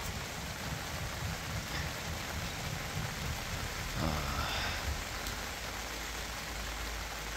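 Steady rain falls over a farm in early June after a long dry spell, a continuous close hiss of drops with a brief swell midway and no voices.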